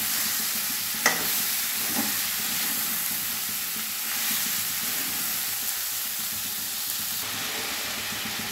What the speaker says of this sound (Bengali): সবজিগুলো অনেকটা ভাজা ভাজা হয়ে এসছে